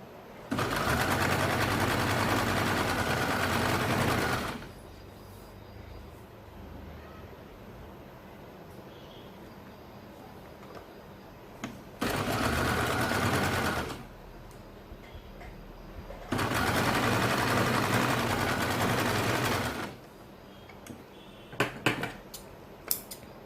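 A sewing machine stitches the shoulder seams of a baby circle frock in three sustained runs. The longer bursts are separated by quieter pauses, and a few sharp clicks come near the end, close and steady.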